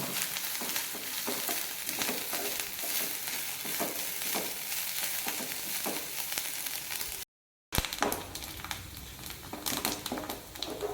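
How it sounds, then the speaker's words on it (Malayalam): Grated coconut and spice mixture frying in a pan until brown, a steady close crackling sizzle with stirring scrapes, interrupted by a brief silent gap before the frying resumes. "ഏകദേശം ഒരു ബ്രൗൺ നിറമാവുന്നത് വരെ"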